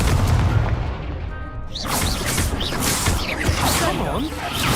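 Booming blast from the Confringo fire spell in a Harry Potter game, a loud continuous roar of explosive impacts and crackling debris with a voice shouting over the chaos.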